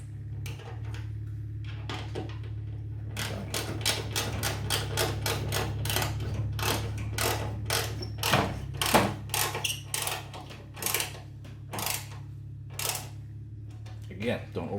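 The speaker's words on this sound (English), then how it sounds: "I'm actually going to use a ratchet" Bolts on a Toyota Tundra taillight are tightened with a hand ratchet, heard as quick bursts of sharp close clicks in uneven runs over a low steady hum, with someone talking at times.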